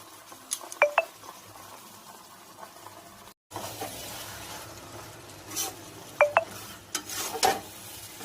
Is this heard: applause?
no